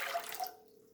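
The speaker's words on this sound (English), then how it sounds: "2 cups of lukewarm water." Lukewarm water being poured into a bowl for bread dough, a brief, faint splashing trickle lasting about half a second before fading to quiet.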